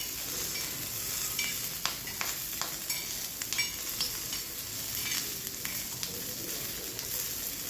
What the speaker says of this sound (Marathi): इथे बघू शकता तुम्ही, छान अशी मिरची आणि लसूण दोन्ही पण छान असं भाजला गेलं आहे